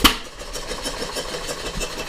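A small John Deere hit-and-miss engine idles at a low, uneven beat, with a sharp knock at the start followed by steady muffled chugging nearby.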